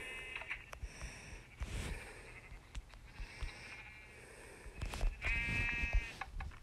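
Sheep bleating in a video game, a couple of short bleats with one clearer, drawn-out bleat near the end, set against busy game sounds with no talking.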